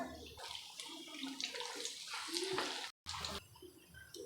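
Masala vadai, the spiced lentil fritters sold at tea stalls, frying in hot oil: a steady, dense sizzle and crackle that continues close by, with one very brief break near the end.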